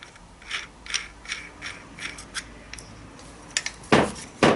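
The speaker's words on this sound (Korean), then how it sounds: "휠러스 너트를 반대쪽으로 조여 주시면 밀착이 됩니다" Flange nut being tightened onto the disc of an ES G1104S variable-speed angle grinder, heard as a run of small ratcheting mechanical clicks followed by two louder, sharper clacks near the end, close and alone.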